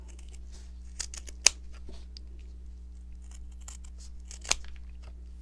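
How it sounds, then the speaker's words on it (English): Scissors snip off excess material from a handmade gnome figure, with a few quiet, sparse clicking cuts and two sharper snips over a low steady background hum. "I'm going to take my scissors and I'm going to"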